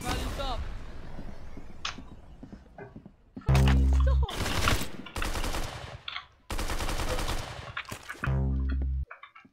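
Video game gunfire in a one-on-one duel, with loud bursts of rapid automatic shots in several blocks and scattered single cracks, while people talk between the volleys.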